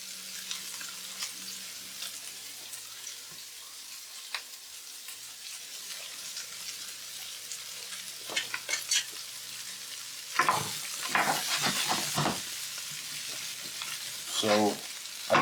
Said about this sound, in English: I'm gonna just saute these up